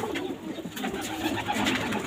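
Domestic pigeons, a flock of fancy breeds including pink and black crested birds, cooing in soft repeated throaty phrases close by, with no talking over them.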